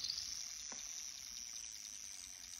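Dry wild clay slakes in a bucket of water, giving a faint, continuous fizzing and crackling hiss, like tiny bubbles popping, quiet and close with no voices.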